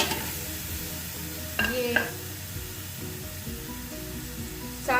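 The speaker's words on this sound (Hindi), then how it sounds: "सबसे पहले हम पैन में गोश्त डालेंगे।" About 700 grams of mutton fries in a pan with a soft, steady sizzle and a few louder stirring scrapes, and one brief spoken word.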